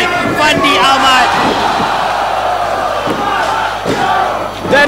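A Singapore crowd at a wrestling event roaring and chanting loudly for local wrestler Andrew Tang, a dense sustained cheer with rhythmic shouts and a few thumps, close and intense throughout.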